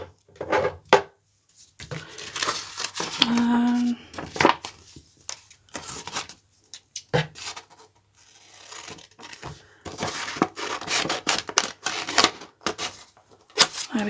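Scissors cut up paper for a cover and index cards in irregular snips and rustles, close and moderately quiet, with occasional handling noises.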